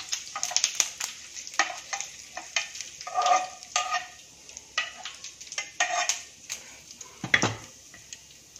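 A spoon stirs hot tempering into bottle gourd batter for kababs, making a busy run of close clicks, scrapes and wet mixing taps with a soft sizzle underneath, plus a heavier knock near the end.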